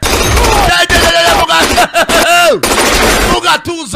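Gunfire from a gun in a dubbed action film, loud bursts of rapid shots mixed with music and dramatic movie sound effects, with a voice partly heard amid the chaos.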